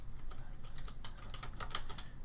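Computer keyboard typing C# code in Visual Studio: a quick run of distinct clicking keystrokes, close and clear over a low room hum, with no talking.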